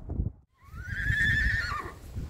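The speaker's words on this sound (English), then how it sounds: "These are the horses." Horses at the Appleby Horse Fair park-up on Sanford Lane, one giving a clear, loud whinny of about a second that rises and then falls away, with low rumbling background noise around it.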